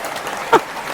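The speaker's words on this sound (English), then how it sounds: "I love that applause." A recorded studio audience breaks into brief applause during a radio-style show. The burst is short and fairly soft and blends with a faint voice.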